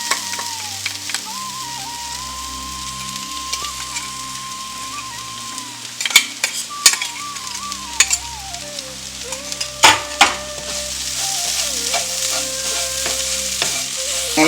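Coconut, beans and leaves sizzle and fry steadily in a pan while a spoon stirs and scrapes through them in irregular clattering strokes, close and moderately loud with no talk.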